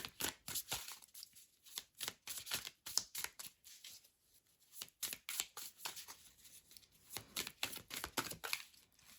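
Tarot cards being handled and shuffled to draw a third card, a quiet run of soft crisp flicks and slaps in irregular bursts, close by with no talk.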